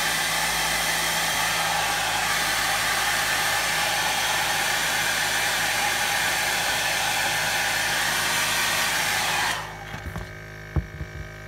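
Hair dryer blowing on fresh paint on an old swim bait fishing lure: a loud, steady rushing drone held close for about nine seconds before it switches off, followed by faint handling clicks.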